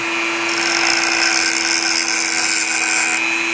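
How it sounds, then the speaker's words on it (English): A power tool grinds down plastic hot staples during plastic welding, a loud, steady high-pitched whine that runs continuously for a few seconds. "And all you do is just grind this down."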